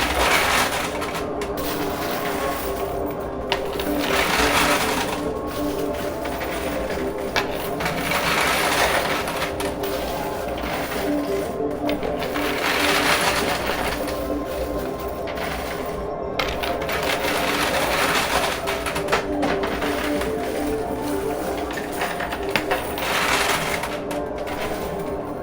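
A high-stakes coin pusher arcade machine with a poker chip wall runs loud and steady, with continuous mechanical whirring, clattering coins and repeated bursts of sliding and dropping.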